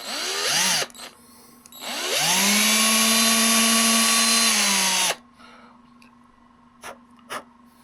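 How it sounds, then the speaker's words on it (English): A power drill bores holes in a guitar pickguard: a short whine first, then a longer steady high-pitched run of several seconds, followed by quiet with a few small handling clicks. "I don't need to drill them quite so deep."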